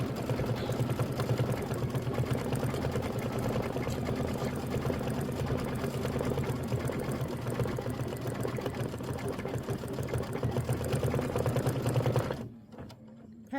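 An embroidery sewing machine stitching a Kimberbell quilt wreath block runs in a loud, steady, fast mechanical hum with rapid needle clatter for about twelve seconds, then stops abruptly into near silence.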